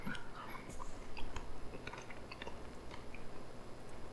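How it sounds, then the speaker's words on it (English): Close, steady chewing of soft serve ice cream, a dense run of soft wet mouth sounds and small bites with no talking. "If you chew your ice cream like that, though, I guess this is pretty soft serve."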